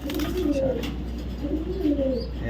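A pigeon coos close by in soft, low, throaty phrases, two rounded calls over a steady background hum.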